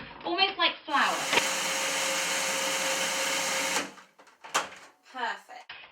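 A blender grinds raw Christmas cake ingredients into a soft flour, a loud steady whirring roar lasting about three seconds, with talking before and after it.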